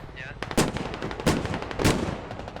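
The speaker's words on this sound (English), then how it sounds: "LAV-6 already taking a shot" LAV-6 armoured vehicle firing in the video game Squad: three loud, evenly spaced heavy shots with booming tails over a dense background of distant battle noise.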